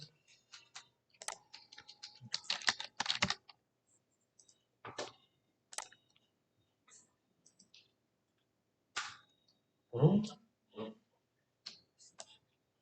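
Computer keyboard keys pressed in short clustered bursts with pauses between, a Ctrl S save shortcut among the scattered clicks, near and fairly quiet.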